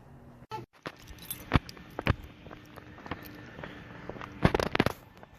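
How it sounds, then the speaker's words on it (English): A normal hose clamp is fitted onto a Nissan 240sx power steering hose: faint metallic clicks, jingles and scraping taps, close and irregular, with a few sharper clinks. "Gonna throw on the handy dandy normal hose clamp and hope for the best."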